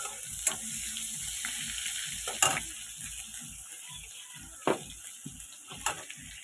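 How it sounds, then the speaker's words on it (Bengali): Chopped tomatoes fry in a pan while a spatula stirs them, with repeated rhythmic scraping strokes and a few sharper clatters over a quiet sizzle. "এবার দিয়ে দিচ্ছি কেটে রাখা টমেটো। এগুলো একটু ভালো করে ভেজে নিচ্ছি।"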